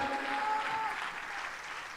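Steady audience applause at a stage event, a dense wash of many hands clapping throughout at a fairly even level, with a faint tone briefly audible near the start.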